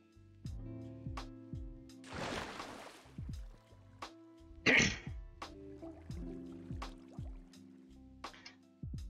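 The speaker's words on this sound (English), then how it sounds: "Excuse me, I need a cough." A person coughs and clears their throat during Minecraft gameplay: a rough burst in the middle and a sharper one shortly after, set against soft, steady game music and plucked notes.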